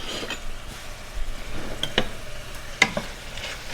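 Vegetables sautéing with Jamaican Better Pack curry powder give a steady, soft sizzle close by, with occasional sharper clicks and scrapes of stirring and no talking.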